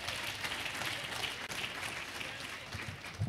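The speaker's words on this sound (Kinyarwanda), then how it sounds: "ukinga amashyi cyane twakira umuvugizi w'urwego rw'ubugenzacyaha" An audience at an evening talk session applauds a guest speaker, a dense, steady patter of many hands clapping at a moderate distance with no pause.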